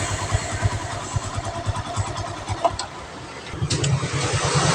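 A Honda Revo Absolute motorcycle with a sudden ignition loss, its engine cranking and sputtering in a rough, rapid pulsing rhythm close by, rising toward the end.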